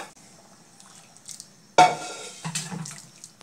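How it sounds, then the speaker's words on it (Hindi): Hot water is poured into a pot of yellow dal fry, with a sudden splashing gush midway, then continued watery sloshing and trickling. "अब हम इसमें थोड़ा सा पानी गरम करके मिलाएंगे।"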